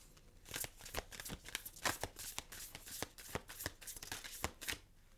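Tarot cards shuffled by hand for a pick-a-card reading, a quiet, close run of crisp riffling snaps and soft slides in an uneven rhythm, with no talking.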